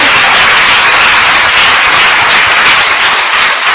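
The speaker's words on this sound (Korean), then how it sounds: "박수로 하나님께 영광." A large crowd at a patriotic church lecture in Korea breaks into loud, sustained applause that fills the room evenly from start to finish, with no voices over it.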